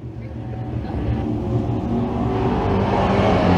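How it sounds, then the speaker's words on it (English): Pro stock race cars thunder down the back straightaway at a speedway, a rising roar of engines building in loudness as they come nearer. "here comes the 75 of Gilbert down the back straightaway"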